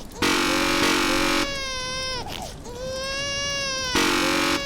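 A baby in The Stanley Parable video game wails loudly in long, harmonic cries broken by a short gasping pause, alongside blaring horn-like tones.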